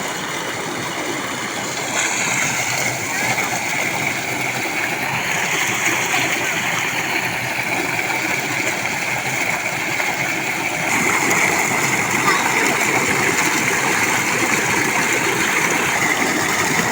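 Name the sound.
boys splashing while bathing under a village electric tube well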